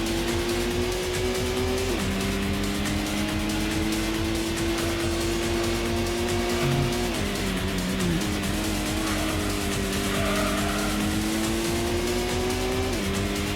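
Racing car engines from the PS1 game Gran Turismo hold a loud, continuous high whine on the final-lap straight, with pitch shifting at gear changes and occasional tyre squeal.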